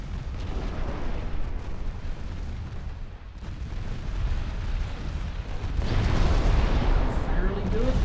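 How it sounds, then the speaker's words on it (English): A small torpedo launch in the naval warfare game Ultimate Admiral Dreadnoughts sounds as a dense, rumbling roar of battle noise that swells louder toward the end and continues without pause. "Small torpedo launch."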